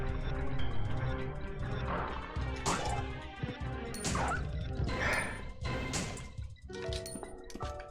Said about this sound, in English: Yep, I hate dogs in this game.